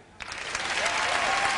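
Women in a comedy club audience break into clapping, starting abruptly after a brief pause and swelling into a steady, fairly loud applause that carries to the end.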